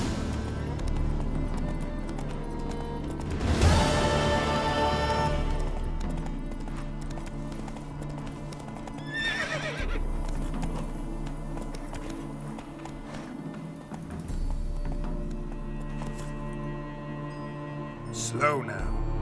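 Roach, a horse in The Witcher 3 video game, gallops in a steady clip-clop of hooves with an occasional snort or whinny over a low ambient drone. People talk over the hoofbeats.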